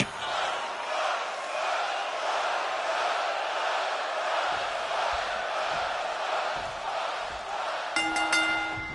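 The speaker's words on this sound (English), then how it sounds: "The fists are flying and this crowd is hot." A wrestling arena crowd in the WWE 2K26 video game, shown on SmackDown, roars steadily and loudly throughout, with shouts and cheers swelling in waves and a brief tonal burst near the end.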